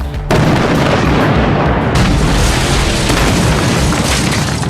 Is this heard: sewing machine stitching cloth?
no